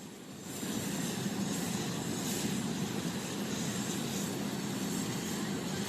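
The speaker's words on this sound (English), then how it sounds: "he just landed in the Poconos, and he's about to come off the plane, or rather the helicopter right now" A helicopter that has just landed in the Poconos produces a continuous, even roar of engine and rotor, fairly loud and unchanging throughout, with no voices.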